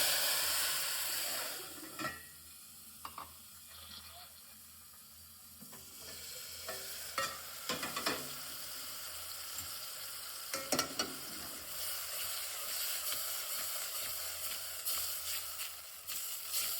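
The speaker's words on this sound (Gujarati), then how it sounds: "વઘાર કરી દઈએ." Mustard seeds and ajwain tempering in hot oil for a village-style boiled papdi dish, a steady sizzle that swells with sharp crackles and pops, close and fairly quiet, no talking.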